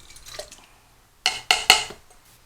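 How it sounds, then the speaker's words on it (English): Canned diced tomatoes drop into a pot of homemade chili with three quick, wet splattering plops in close succession, following a few faint soft clinks. "I'm going to go ahead and drop in the diced tomatoes"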